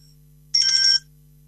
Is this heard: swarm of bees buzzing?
no